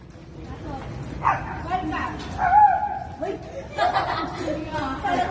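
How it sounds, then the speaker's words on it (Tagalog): A small chihuahua yips and barks in short bursts a few times, mixed with people talking nearby in Intramuros, Manila. "Eh, aso, may chihuahua tayong dala?"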